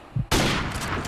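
Rapid gunfire in a Call of Duty-style online match, a sudden loud burst of overlapping shots after a brief quiet moment, sustained to the end.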